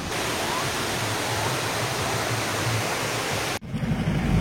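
Gumajharan waterfall in Malkangiri pouring its main stream, a loud, steady roar of falling water heard up close, broken by a brief dip near the end before the rush resumes.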